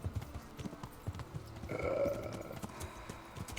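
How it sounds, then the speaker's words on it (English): Horse hooves clip-clop in steady rhythm in Kingdom Come: Deliverance, moderately close, with a brief whinny-like tone in the middle. "That's the sound a horse makes."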